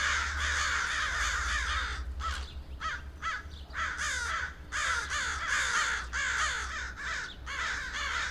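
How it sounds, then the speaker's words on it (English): Several crows caw harshly above a churchyard, their rough calls coming in bursts of repeated croaks that overlap, with a low steady hum of background noise beneath. "they heard the rough call of crows, probably landing on the churchyard maple trees"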